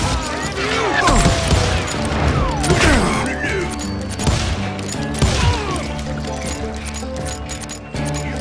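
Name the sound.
gunfire from hired guns in the video game Call of Juarez Gunslinger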